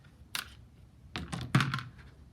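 A cutter slicing fabric squares along a ruler during quilting: a few short, sharp cutting strokes and thunks, one early and a quick cluster later, close and crisp with quiet gaps.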